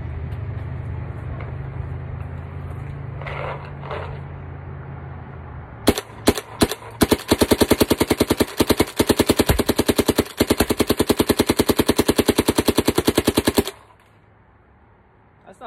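A WGP Autococker E1 Prostock paintball marker fires at about 280, first a few separate shots, then a long, fast, loud string of sharp pops that stops abruptly, with steady background noise before it and no talk.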